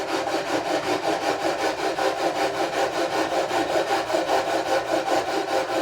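Guitar frets on a Harley Benton 35 Plus being leveled with a sanding beam, an even back-and-forth abrasive rasp repeating at a steady rhythm, close and continuous with no voices.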